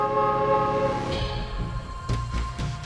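A train rumbles past with a steady roar while a horn blares in long, sustained tones over the noise.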